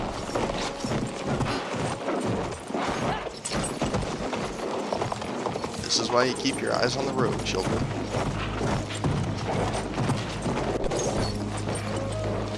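A horse galloping in the video game Battlefield 1, with steady clip-clop hoofbeats, a whinny and rattling gear, heard under a man's speech and game effects.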